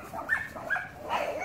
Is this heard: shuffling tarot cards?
no